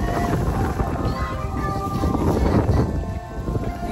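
Steady rain pours down at Ba Na Hills in Vietnam, a dense, continuous hiss of drops with some wind buffeting the microphone, loud and close throughout.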